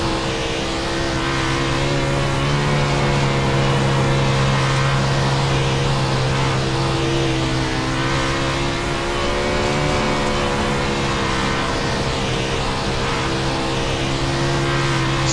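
A car engine in a driving video game drones and climbs steadily through the revs, a loud continuous tonal roar with no talk over it.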